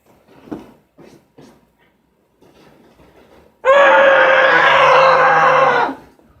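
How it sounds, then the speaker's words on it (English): After a few soft, scattered sounds, a loud, muffled scream into a pillow bursts out and holds steady for about two seconds before cutting off. "let me just scream in the pillow real quick"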